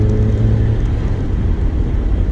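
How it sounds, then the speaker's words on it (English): A Mazda MX-5's engine drones steadily and loudly at close range with a continuous rumble, its pitch shifting as revs change during downshifts, with no talk over it. "I just love the downshifts."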